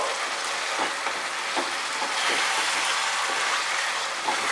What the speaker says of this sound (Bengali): 1 মিনিট আমি নাড়তে নাড়তে কষিয়ে নিচ্ছি